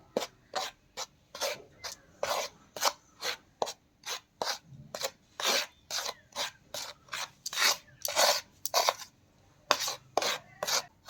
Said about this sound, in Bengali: এক চামচ গোলমরিচের গুঁড়ো হাফ চামচ লবণ নিয়ে ভালো করে মিশিয়ে নেব